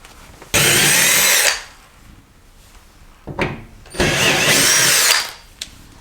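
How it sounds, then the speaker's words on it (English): A power drill or driver whirs in two loud bursts of about a second each while backing screws out of a refrigerator's cardboard cover, with small tool clicks between them. "We're going to go ahead and remove the screws holding this cardboard cover on and remove the cover."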